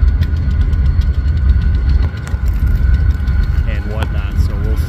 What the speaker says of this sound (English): So, that was the lead engine. They're backing up now.